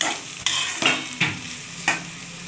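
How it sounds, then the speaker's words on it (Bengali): Potatoes fry in a pan of hot oil for a home-style potato and poppy-seed dish, a steady sizzle broken by four sharp scrapes or knocks of a spatula as they are stirred. "আলুটা খুব ভালো করে ভেজে নিতে হবে"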